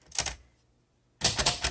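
A 1957 Royal Quiet De Luxe manual typewriter, one short burst of keystrikes, a silent pause, then another quick run of close, crisp clacks.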